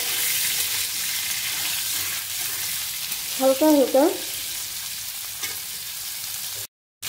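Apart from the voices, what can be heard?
cauliflower frying in oil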